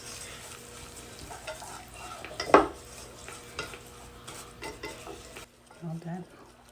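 A spoon stirring brown sugar into melted butter in a pan for sticky buns, a soft sizzle with scraping strokes and one louder clink midway, then quieter.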